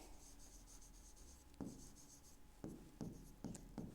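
Chalk or marker scratches across a board as reaction equations are written, soft rubbing strokes followed by several distinct taps and short scrawls, faint and close.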